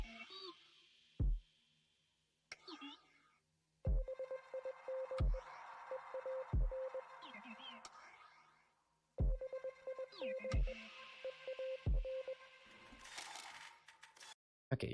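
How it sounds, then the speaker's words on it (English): Archivist boss fight music from Inscryption plays as sparse electronic tones, punctuated by repeated sharp beeping pulses and short bursts that carry a hidden Morse code pattern. "There was some Morse code in the music for the archivist."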